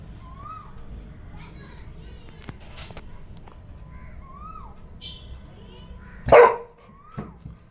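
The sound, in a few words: dog barking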